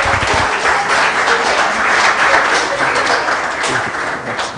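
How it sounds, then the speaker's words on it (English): A live audience at a startup accelerator demo day breaks into steady, dense applause that fills the whole stretch at close range, with no talking over it. "A huge round of applause for Lara.ng"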